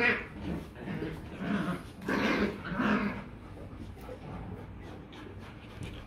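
Dogs at home, Rottweiler, Poodle and bobtail mixes, growl and grumble while playing together, in several close bursts with soft whimpers and yips between them.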